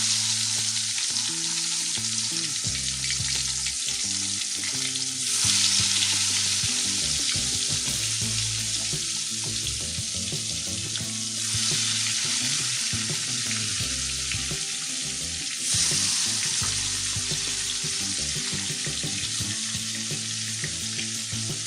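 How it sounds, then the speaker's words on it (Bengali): Whole tilapia frying in hot oil in a pan for a tilapia curry with potato and eggplant: a loud, steady sizzle and crackle runs throughout, with a few brief surges, and no talking. "গরম হয়ে গেছে, আমি এখন মাছগুলো দিয়ে দিব।"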